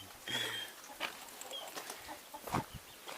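A chicken on a farm where hens lay eggs on a table, clucking in several short, scattered calls, moderately close and fairly quiet, with no speech over it.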